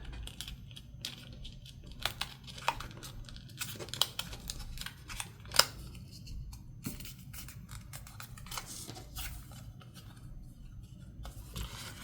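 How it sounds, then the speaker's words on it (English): A paper tag is folded for a junk journal, giving faint, close crinkles, soft creasing and scattered light clicks in an irregular rhythm in a quiet room. "I'll fold this one to the side"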